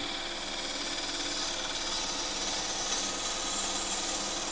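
A wood lathe turning a thin-walled piece gives off a steady, close hissing whine as the tool cuts, unbroken and even throughout with no talking.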